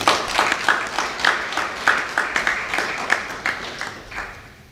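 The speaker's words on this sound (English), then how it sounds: "I hope we can clap" A crowd claps steadily in a fairly loud, sustained round of applause, individual claps audible in a quick, uneven rhythm.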